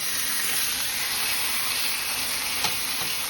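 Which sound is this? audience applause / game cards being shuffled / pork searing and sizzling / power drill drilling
pork searing and sizzling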